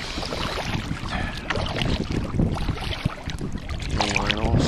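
A paddle churns and splashes water as a fishing kayak back-paddles on the Chickahominy River in fall, with irregular close strokes, wind noise and water sloshing throughout.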